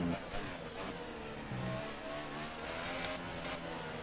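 F1 race car engines in the video game F1 2018 at the Russian Grand Prix, a steady mid-pitched engine drone with shifting revs and pitch changes, cars running close ahead and behind, no talking.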